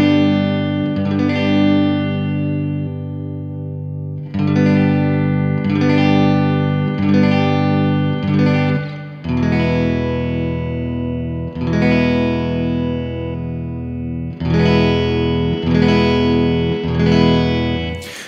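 Electric guitar chords strummed several times through a Strymon Flint effects pedal with color turned all the way up, heavy modulation, swirling, shimmering sustain and reverb, loud and close, no talking.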